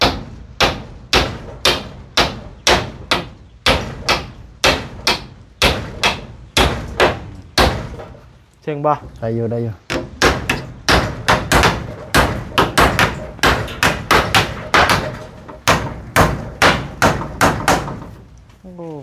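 Nails are hammered during a kitchen extension, a loud, evenly paced series of sharp blows that pauses briefly while people talk, then resumes in steady repetition.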